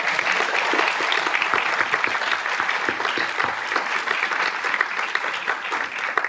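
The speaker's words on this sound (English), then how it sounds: "let's give them a round of applause as well." Steady, dense applause from a large audience at an annual recognition ceremony fills the whole stretch, loud and even, with no voices standing out.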